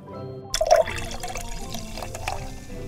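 Water poured into a toy blender: a short liquid splash and trickle begins suddenly, then settles into a gentle continuous flow, with no voices.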